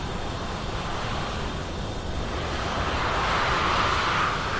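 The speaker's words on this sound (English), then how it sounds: "That AI traffic engine starting there." An AI traffic airliner engine spools up in Microsoft Flight Simulator, a loud, steady broadband roar whose rushing whine swells toward the end.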